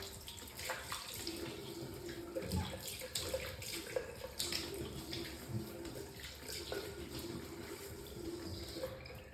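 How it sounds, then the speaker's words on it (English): Running tap water splashes steadily as hands scoop it onto a face before a straight-razor shave, a continuous close wash with irregular slaps and drips throughout, no talking. "I'm just going to wet my face."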